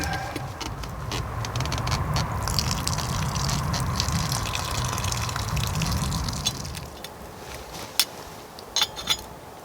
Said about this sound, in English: I'm just going to pour some of this water out.